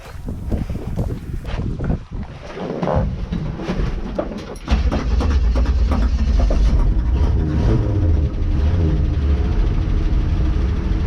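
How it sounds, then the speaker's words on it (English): A 1969 Chevrolet C10 truck engine cranks and catches, then settles into a loud, steady, rumbling idle heard close up with some wind noise on the microphone. "Let's see if we can get this started again."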